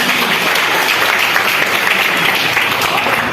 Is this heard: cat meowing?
no